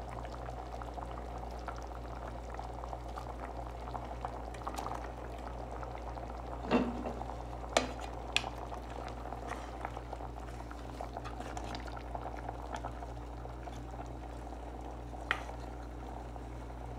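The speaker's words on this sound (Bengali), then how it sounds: "দিয়ে আবার 5 থেকে 7 মিনিট আমরা সিদ্ধ করে নেবো ভালো করে" A pot of gourd and fried fish simmers at a steady low bubble, a soft continuous boil with a few faint clinks partway through; no one speaks.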